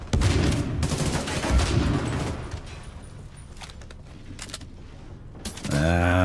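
Bursts of gunfire from The Division 2 crackle densely for the first two seconds, then thin to sporadic shots under a low ambient rumble before a tonal game sound swells at the end.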